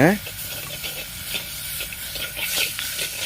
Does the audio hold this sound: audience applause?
no